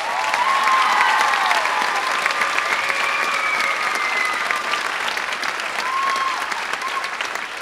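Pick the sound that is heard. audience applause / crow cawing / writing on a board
audience applause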